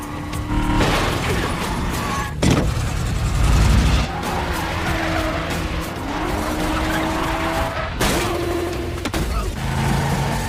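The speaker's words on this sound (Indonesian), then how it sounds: "John Wick langsung menaiki dan tanpa banyak bacot langsung gaspol dari tempat tersebut" Car speeding away in a John Wick action film, with a loud engine roar, tire skids and squeals, and sharp impacts or gunfire-like bursts, all close and intense with no talking.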